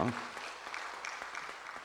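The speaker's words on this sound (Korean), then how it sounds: "우리 박수 한번 다시 하겠습니다" Church congregation clapping during a Sunday worship service, a brief, fairly soft burst of applause that fades across under two seconds.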